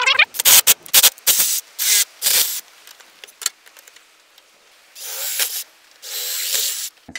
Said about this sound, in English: We're gonna actually be drilling out the housing, if you will.